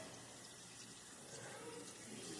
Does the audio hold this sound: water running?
yes